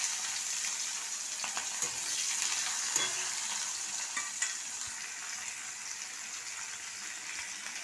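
A large onion fries in hot oil with cinnamon, clove and small cardamom for a prawn, potato and yam dish. A soft, continuous sizzle and crackle with light stirring sounds runs throughout, fairly quiet and without voices.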